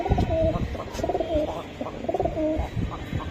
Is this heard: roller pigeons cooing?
yes